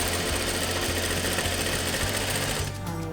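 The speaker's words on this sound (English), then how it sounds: "I like to backstitch my starting and ending seams on everything that I sew." A sewing machine runs steadily, stitching and backstitching a quilt seam for a scrappy five-piece quilt block, close and loud, with a rapid mechanical rhythm that stops near the end.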